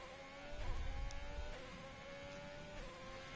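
A race car engine pulls hard out of a corner in a racing game, a strained high whine climbing in pitch with a quick gear change midway. It stays close and steady, with a low rumble underneath.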